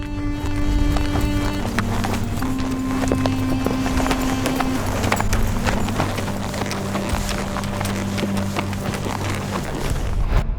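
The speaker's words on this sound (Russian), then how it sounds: "Лошади приучены ходить по горам, и это существенно облегчит людям поход к цели." Pack horses trained for mountain terrain walk a trail in the Karachay-Cherkessia highlands of the Caucasus, their hooves clip-clopping steadily and close throughout, with a sustained tonal backdrop underneath.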